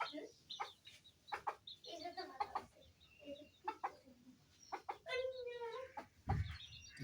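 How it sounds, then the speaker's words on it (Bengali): Native hens clucking in a small household flock, with irregular clucks and squawks close by, a loud burst near the end, and voices talking among them. "আমাদের চারটে মুরগি"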